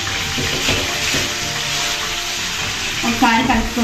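Chopped onions sizzle and crackle in hot oil in a pan for an Indian fish curry, a steady close frying hiss with light stirring scrapes, brief faint voice near the end.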